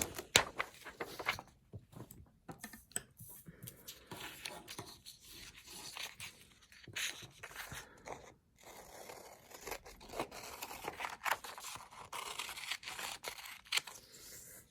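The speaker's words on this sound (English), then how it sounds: "Then we need our scissors to start with." Scissors cut paper close up in a classroom-style craft activity, giving irregular crisp snips, scrapes and rustles that come in bursts across the stretch, with no talk over them.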